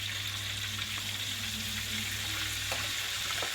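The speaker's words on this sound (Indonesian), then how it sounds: "itu bumbunya udah aku masukin ke wajan ya" Spice paste sizzles in a wok with a steady, dense hiss that holds loud and even throughout, close by.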